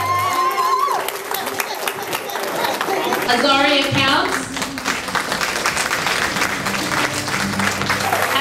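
Crowd at a mentors ball applauds honorees, a sustained wash of clapping with some cheering under a speaker's amplified voice and background music, loud and continuous throughout.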